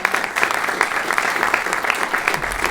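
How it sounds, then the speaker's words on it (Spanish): An audience applauds at a live pop tribute concert in Carballo as a band member is introduced, a dense, steady clapping that fills the whole stretch with no voice above it. "un aplauso para"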